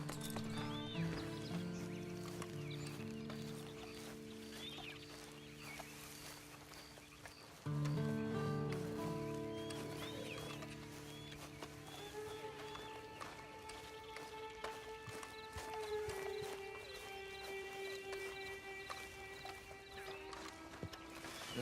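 A horse whinnies and hooves clip-clop quietly over a sustained musical background in the video game Red Dead Redemption 2, with no talking.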